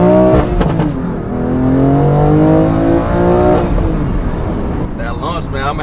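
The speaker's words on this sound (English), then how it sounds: "That launch, man, I'm gonna have to do it without traction control because I'm killing my power." A BMW M2 launches hard and pulls through the gears, its engine note climbing steadily in loud, close acceleration with a shift before rising again, as people speak over it.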